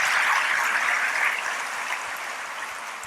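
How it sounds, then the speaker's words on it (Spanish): Steady, dense applause from a large audience at a Catholic Marian gathering in Cancún, loud and continuous and easing slightly toward the end. "Un más fuerte aplauso, por favor."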